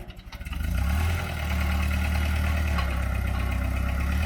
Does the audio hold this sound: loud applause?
no